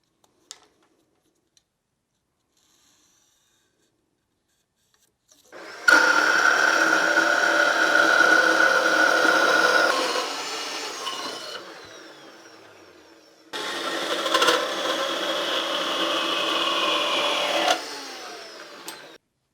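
A power drill bores a hole through a thick steel bracket, a little over 1/8 inch, in a garage working on a Porsche 912 engine swap; two loud sustained bursts of whining, grinding drilling, separated by a short pause.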